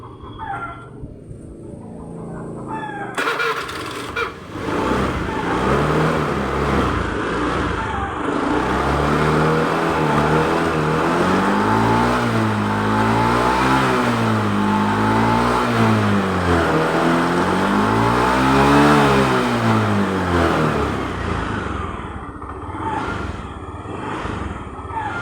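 A fuel-injected Honda Beat scooter engine idles, then revs up and down in repeated rising and falling swells, loud and close, with a rough, sputtering edge and no talking.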